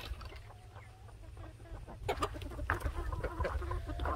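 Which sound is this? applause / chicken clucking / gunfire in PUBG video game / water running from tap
chicken clucking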